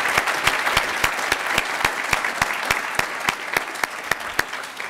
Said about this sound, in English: How about another round of applause for John Tory and John Duffy?